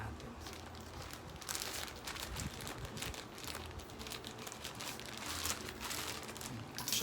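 Plastic packaging on a small mystery box containing a JBL wireless headset crinkles and crunches steadily for several seconds as it is pulled open by hand, close and fairly soft, with no talk over it.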